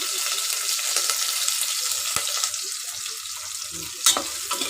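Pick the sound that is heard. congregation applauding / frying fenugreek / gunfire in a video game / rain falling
frying fenugreek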